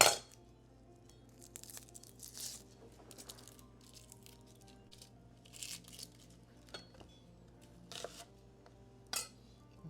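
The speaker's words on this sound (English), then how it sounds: "I will peel the onions." Onions are peeled by hand in a kitchen, with quiet irregular papery tearing and crinkling of the skins, interspersed with soft clinks and taps, all close and faint with no talking.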